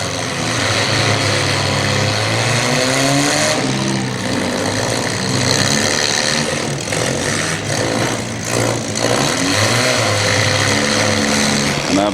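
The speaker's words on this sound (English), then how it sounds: "You can kind of hear the drones on these things." Demolition derby cars at a county fair drone steadily with worn-out engines, a continuous dense roar of several motors idling and revving throughout, loud and close with crowd noise underneath.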